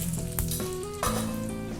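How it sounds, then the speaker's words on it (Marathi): Spices crackle and sizzle steadily in hot oil for a tempering, a close, continuous frying hiss with a sharper burst midway as Byadgi chili powder is added. "फोडणी करायची आहे आणि बेडगी मिरची पावडर टाकायची दोन चमचे कलर येण्यासाठी"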